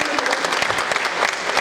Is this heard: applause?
yes